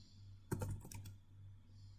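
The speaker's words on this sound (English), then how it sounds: "I could have copied and pasted the location, and just type it manually" Typing on a computer keyboard, a short quiet burst of about half a dozen quick key clicks in the middle, with near silence before and after.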